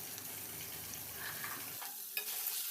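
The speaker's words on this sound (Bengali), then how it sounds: "তো আস্তে আস্তে পাস্তাটাকে আগে একটুখানি ভেজে নেব" Pasta sizzling and frying in a pan with a steady crackle and occasional stirring scrapes, close and moderately loud, quieting toward the end with a brief clatter.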